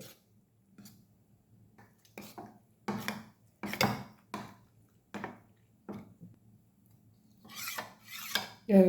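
A spoon scrapes and swirls through ragi flour and water in a vessel in a series of short, soft strokes, with brief pauses between them.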